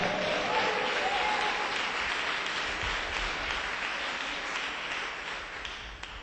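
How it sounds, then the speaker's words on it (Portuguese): Church congregation gives a sustained round of applause during a Sunday service, dense even clapping filling the room and slowly tapering toward the end. "Dá uma salva de palmas para Jesus então."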